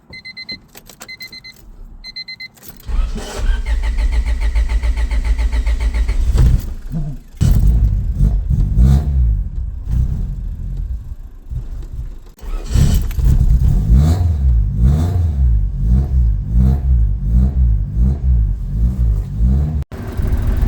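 A Honda car engine cold-starting after a few seconds of small clicks and key-like jingles, then cranking, catching and revving repeatedly in loud rising-and-falling surges that run to the end.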